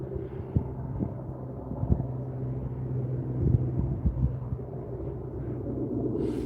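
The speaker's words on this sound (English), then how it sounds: "Can you guys hear the helicopters?" Helicopters over a wildfire area near Bear Creek and Deer Creek below Big Bear, during the Line Fire, make a continuous distant low rumble with occasional soft thumps and no voices.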